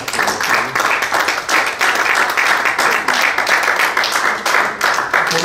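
A church congregation claps steadily for the Lord, a close, full wash of hands beating in a continuous, slightly rhythmic roar that never drops off.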